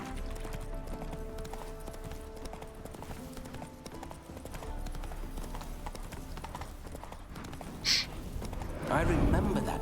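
Roach the horse clip-clops steadily along in The Witcher 3: Hearts of Stone, a continuous rhythmic trot under game music, with a brief sharp rustle near the end and a louder burst of movement at the close.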